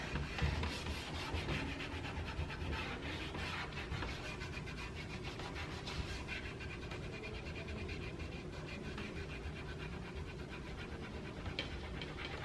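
Steady soft rubbing of a cloth or brush working clear wax into a chalk-painted wooden farmhouse hutch, a continuous close, quiet friction sound with no voices.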